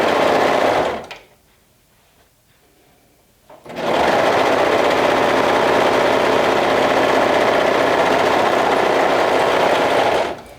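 A sewing machine stitches front and back pieces of a cotton lycra tee in two loud, close bursts of rapid whirring, separated by a brief quiet pause of a few seconds.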